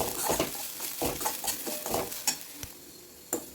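Grated coconut and semolina sautéed in a pan for a traditional Chettinad sweet, with a spoon scraping and stirring in quick uneven strokes over a soft, close sizzle.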